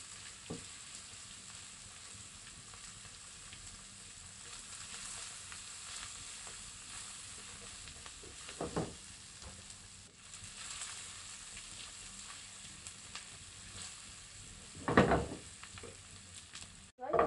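Chicken pieces seasoned with red pepper and paprika fry in a pan, a steady, quiet sizzle throughout, with a few louder scraping bursts as the pieces are stirred and flipped, and no talk.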